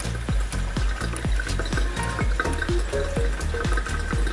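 Alcohol solvent drains out of a glass Soxhlet extractor while extracting tangerine, making a steady gurgling rush of liquid with repeated bubbling glugs throughout, close and continuous.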